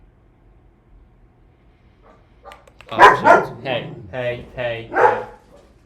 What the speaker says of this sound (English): Sorry for the barking, y'all.